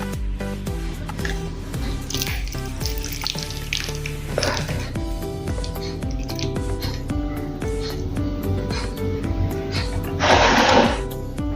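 Water drains from overnight-soaked semolina with gurgling, sloshing and dripping amid steady background music, ending in a brief louder rush of pouring water.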